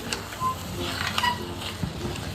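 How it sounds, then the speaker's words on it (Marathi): A spatula stirs chigali leaf vegetable sabzi with small raw mango pieces in an open pan, giving soft scraping and rustling strokes over a light sizzle, close and fairly steady. "भाजी सगळी मिक्स करून घेते"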